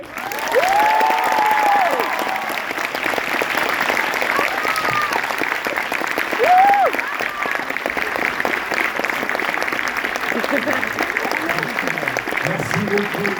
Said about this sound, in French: avec vos applaudissements, on va accueillir le réalisateur Nicolas Bedos.